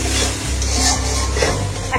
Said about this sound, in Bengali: এখন আবার কষাবো একটু পানি দিয়ে